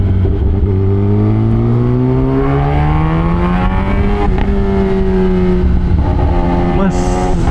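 Kawasaki ZX-10R sport motorcycle engine droning loudly and steadily, its pitch rising slowly then easing back, heard close up as if from the rider's position with constant wind and road noise.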